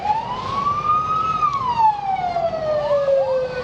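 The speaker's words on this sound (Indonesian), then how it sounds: "saya lihat ada sebuah mobil pemadam kebakaran" A fire engine siren wails steadily nearby, its pitch rising slowly then sliding down, over a constant rumble of traffic.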